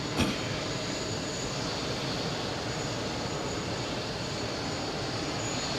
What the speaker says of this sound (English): The next JetBlue already cleared for takeoff.